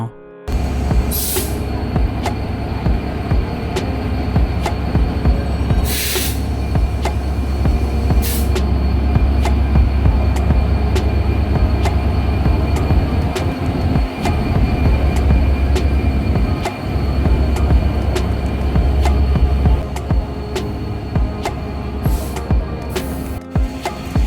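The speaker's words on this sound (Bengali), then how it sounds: "একটু আগে একটা ট্রেন গেল এটা ঢাকা থেকে খুলনাগামী চিত্রা এক্সপ্রেস" The Dhaka–Khulna Chitra Express rolls past near the western end of the Jamuna Bridge, a loud, steady rumble of wheels on rails that holds for the whole stretch, with a few brief high squeals and clanks.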